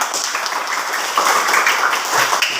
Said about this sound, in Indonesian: Nah, Bagus, tepuk tangan.